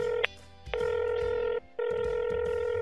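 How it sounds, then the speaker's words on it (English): A phone rings in Roblox Brookhaven: two long electronic ring tones separated by a short gap, loud and clear with no talking over them. "It's ringing."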